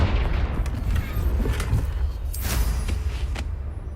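A Confringo fire spell blasts in Hogwarts Legacy, a series of muffled booming impacts over a low rumble, with a brighter crackling burst midway that fades toward the end.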